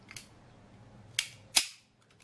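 A Colt SAA cap gun revolver fires caps, giving three sharp cracks: a small one, then two louder snaps close together near the end, heard close up in a quiet room.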